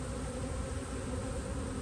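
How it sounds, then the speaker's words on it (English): Honey bees buzz at an open beehive during a nuc installation, a dense, continuous close-up drone with no pauses. "Still lots of bees."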